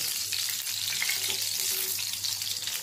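Tomato slices fry in hot oil, a dense continuous sizzle with a bright crackling hiss, heard close and steady with no talking.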